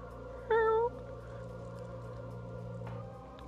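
A cat gives a single short, clear meow near the microphone over a quiet room hum, and the rest of the clip stays calm.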